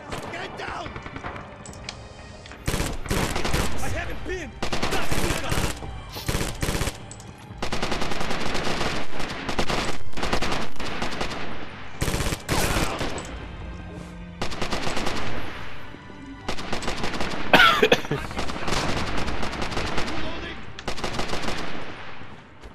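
Repeated bursts of loud automatic gunfire from the World War II shooter game Rising Storm, long rattling volleys broken by short pauses, close and dominant throughout.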